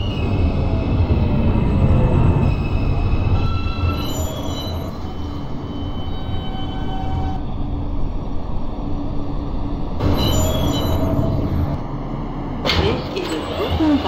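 R160A subway train on the Q express in a train simulator, running with a steady low rumble and rolling wheel noise, with brief high squeals and a rise in hiss near the end, heard continuously without talk.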